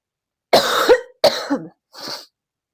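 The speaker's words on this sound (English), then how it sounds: "I didn't want this to be one of my intro videos where I'm coughing" Three harsh coughs in quick succession, close and loud, the last one softer and more breathy, with silence between them.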